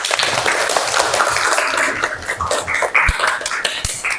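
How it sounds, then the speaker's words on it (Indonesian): Classroom applause during a dice probability lesson: a room of students claps in a dense, uneven patter that is fairly loud and close, with a few sharp individual claps standing out near the end. "tepuk tangan untuk Miranda"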